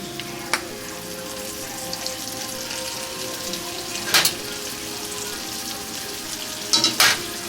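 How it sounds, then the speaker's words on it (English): Cube steaks searing in a pan, a steady crackling sizzle with a few sharp clinks and scrapes of utensils, no speech. "Here go the last of the cube steak. We're gonna put them in there, get a little sear on them."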